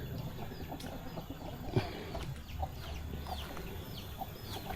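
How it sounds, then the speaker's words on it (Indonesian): Chickens cluck in scattered bursts around a remote rural Javanese village of old teak-wood houses, with occasional louder calls near and faint ones farther off over a quiet outdoor background. "Tuh, ayamnya banyak banget ini ayamnya."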